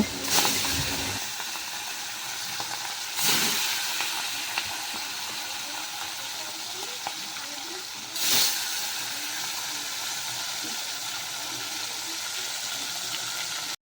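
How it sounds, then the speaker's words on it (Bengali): Rohu fish, rubbed with salt and turmeric, fries hard in a pan with a steady close sizzle and hiss throughout, broken by a few louder bursts of spatter. "এইবারে মাছটাকে ভেজে নেব অনেকটা কড়া করেই ভাজবো মাছটাকে"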